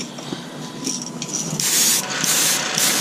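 An airbrush hisses in short bursts while spray painting a lipless fishing lure in a red color, the spray switching on and off with louder, longer blasts toward the end.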